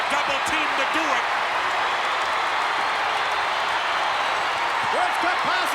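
A capacity crowd at a WWE wrestling event cheers and roars continuously, a loud dense wash of noise with scattered shouts and a commentator talking over it.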